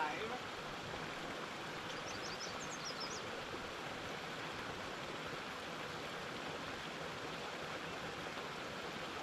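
A mountain stream rushes steadily over mossy rocks in a continuous wash, with a few faint bird chirps briefly early on, at Horse Creek Hot Springs, Idaho.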